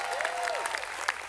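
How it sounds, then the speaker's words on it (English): An audience at the 2023 Pomona College commencement applauds in a dense, steady wash of clapping, with a brief whistle near the start. "Can we give a round of applause to Senior Committee for all the work that they've done?"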